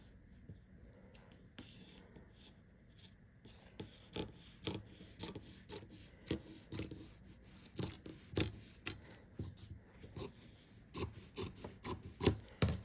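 Scissors snip through fabric for a no-sew Minnie bow, a run of short, crisp rasping cuts that grow steadier and louder partway through, close up with no talking.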